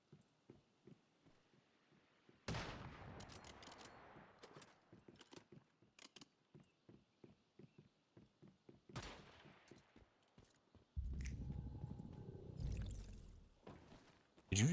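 Gunshots in the video game Once Human: scattered sharp cracks over a quiet background, with two loud bursts and a dense stretch of rapid fire near the end, plus a final close shot.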